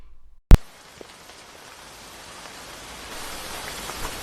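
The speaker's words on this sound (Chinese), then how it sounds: "别看着了，下这么大雨" Heavy rain comes in as a steady, broad hiss that grows louder and denser toward the end. A sharp click sounds just before the rain starts, and no one talks.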